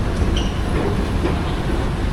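A metro train passing, a dense roar of rolling wheels with a faint squeal, continuous and fairly close, without voices.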